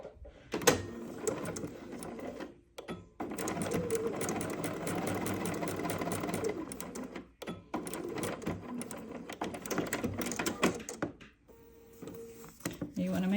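A sewing machine stitches quilt block pieces along a printed line, its motor running in steady bursts of rapid needle clatter with short pauses between seams, while a person talks over parts of it.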